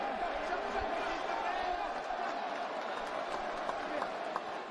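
Arena crowd at a UFC event reacting after a fight win, a continuous roar of cheering and scattered clapping heard at a distance with voices mixed in.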